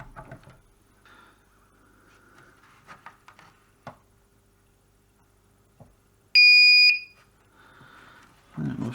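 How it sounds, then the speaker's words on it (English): A battery charger gives a single short, clear electronic beep when plugged in, loud against a quiet room with scattered small clicks and handling noises before and after. "So it's got a beep."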